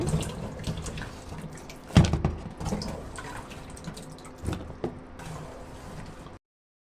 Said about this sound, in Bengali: আলুতে প্রচন্ড ময়লা থাকে, এভাবে ভালো করে ধুয়ে নিচ্ছে।